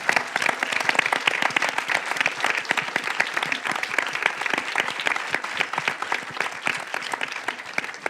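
Sustained applause from a sizable audience, dense and steady clapping throughout with a faint murmur of voices mixed in.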